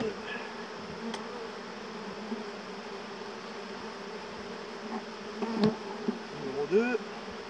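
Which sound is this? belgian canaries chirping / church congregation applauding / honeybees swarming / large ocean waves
honeybees swarming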